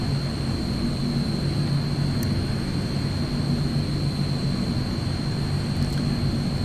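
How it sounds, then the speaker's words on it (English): Twin engines of an AzurPoly C-160 idle in Microsoft Flight Simulator, a steady low drone with a constant high whine running throughout, no voices. "So we've got both engines idling now."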